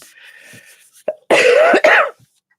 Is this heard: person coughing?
yes